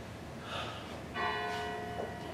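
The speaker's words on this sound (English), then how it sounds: "The bell invites me." A single bell tolls in a stage production of Macbeth in a theater, one clear resonant ring with a lingering, fading tone over low room hush.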